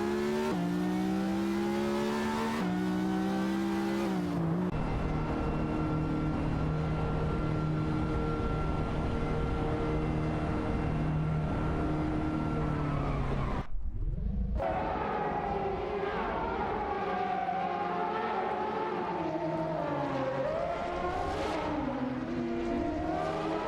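Race cars in an AI race drone and rev at length, with engine pitch rising and falling through gear changes and overtakes, and one car sweeping sharply past midway, loud and continuous.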